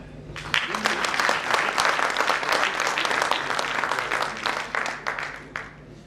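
Audience applause at a Hindi-Urdu poetry gathering (mushaira), a dense wash of many hands clapping that stays steady and moderately loud for several seconds before thinning, with faint voices underneath.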